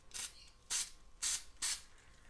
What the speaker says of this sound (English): Gonna grab my spray adhesive.